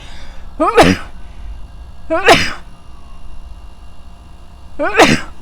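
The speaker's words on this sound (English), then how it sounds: "I'm going to sneeze again." Three sharp sneezes burst out at irregular intervals, each a quick inhaled catch followed by an explosive blast, close to the listener.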